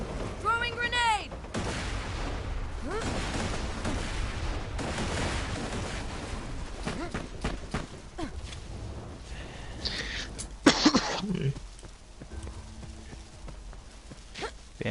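Combat in the video game Borderlands 2, with a steady barrage of gunfire and a grenade blast near the end, punctuated by a brief spike of impacts, while someone talks over the action.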